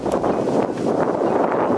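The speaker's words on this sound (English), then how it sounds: "it's so windy right now" Wind gusts buffet a camera's built-in microphone in a park in Seoul, a loud, rumbling, fluttering roar that swells and dips continuously.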